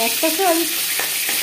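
Katla fish pieces fry in hot oil, giving a loud, continuous sizzle and crackle close by, with a brief spoken phrase over it.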